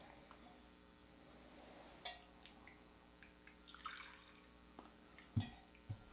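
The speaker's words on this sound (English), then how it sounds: "I'm pouring out of a spotless travel mug" Coffee trickles quietly from a spotless travel mug, with soft splashes and a few sharp clinks and taps of the vessel scattered over several seconds.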